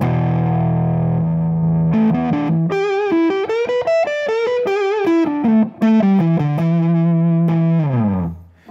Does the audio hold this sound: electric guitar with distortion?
yes